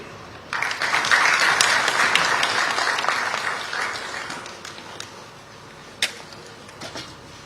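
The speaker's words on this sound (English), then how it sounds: "Another big applause for Dr. Maxi" Audience applause at a Uganda water and environment week conference after a presentation, a burst of clapping that swells quickly and then thins out, with a few isolated claps trailing at the end.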